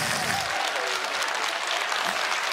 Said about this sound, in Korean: 우리 악단 여러분에게 고생하니까 박수 한번 주세요.